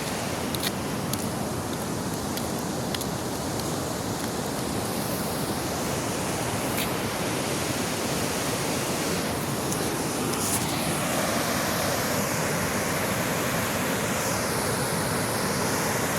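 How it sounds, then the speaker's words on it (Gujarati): Water rushes continuously in a loud, steady broadband roar, like a fast stream or small waterfall, with no voices. "તમે પાણીનો અવાજ સાંભળી શકો છો"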